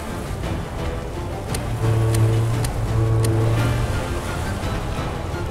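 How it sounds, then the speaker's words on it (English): Boat engines starting up in a search and rescue video game, a low steady motor drone with faint tonal hum rising over a continuous watery wash, no talk. "can start the engines up"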